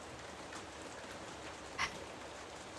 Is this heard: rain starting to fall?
yes